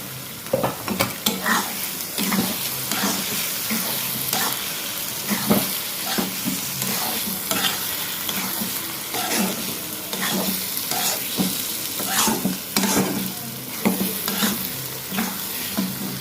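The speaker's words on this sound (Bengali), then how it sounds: "হালকা করে ভাজতে হবে এক দু মিনিট ভেজে তুলে নিতে হবে" Food fries with a constant sizzle in a pan for a Bengali muri ghonto fish-head dish, broken by frequent close scraping stirs of a utensil throughout.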